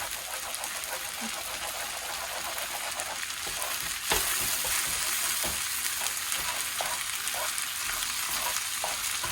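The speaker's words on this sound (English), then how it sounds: "that egg is scrambling into the whole mix" Egg scrambling into a frying mix in a hot pan, a steady loud sizzle with soft stirring scrapes, intensifying after a sharp knock midway.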